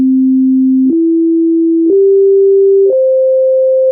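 Synthesizer bass-instrument notes play back from a timeline in GrooveWire: four loud, pure, steady tones of about one second each, stepping upward in pitch one after another, with no talk.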